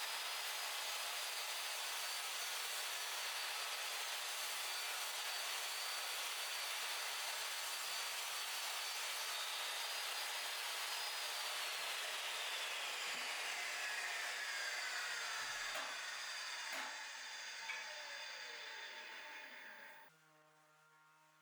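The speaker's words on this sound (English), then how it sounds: "I used my table saw to cut it in half." Table saw ripping a piece of redwood fence board in half: a loud, steady broadband whine for most of the cut, shifting pitch near the end before the blade spins down.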